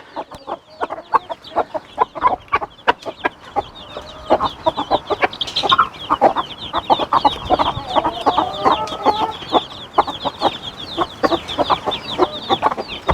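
Broody Gurk hens cluck steadily in a barnyard as they come out of the coop, a dense run of short, close clucks and chatter with a few louder calls, ongoing throughout with no talking.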